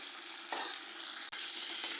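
Mutton kaliya masala frying in oil, made without onion, a continuous close sizzle punctuated by a few sharp stirring scrapes of the spoon, with no talking.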